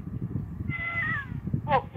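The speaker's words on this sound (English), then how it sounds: "Oh, yes, Frankie, that's my cat, Frankie." A house cat gives two short meows, one drawn-out and one quick and higher, over a low murmur of background conversation.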